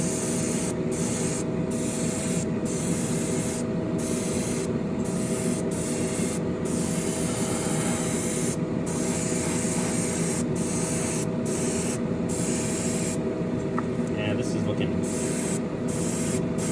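Lacquer paint sprayed from an airbrush onto a model Ferrari SF90 Spider body, a loud close hissing spray broken into repeated short bursts with brief pauses between.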